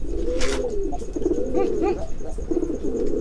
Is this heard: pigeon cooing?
yes